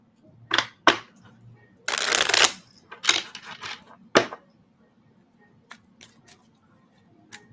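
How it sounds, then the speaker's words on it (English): Tarot cards shuffled by hand in a few separate bursts of riffling and slapping, with a longer rustling run in the middle and softer flicks trailing off, close and fairly quiet over a low background hum. "What a strange shuffle that was."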